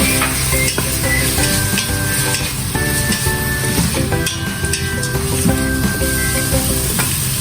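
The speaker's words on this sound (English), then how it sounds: "Add pickled vegetables and stir fry together." Pickled vegetables and ginger stir-fried in a soup pot for vegan salted vegetable noodle soup, a loud close sizzle with repeated metallic scraping and clinking of the utensil against the pot.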